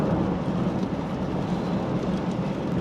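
Rain drumming on a car while driving in Kuala Lumpur, Malaysia, a dense, continuous low rumbling wash with no voices.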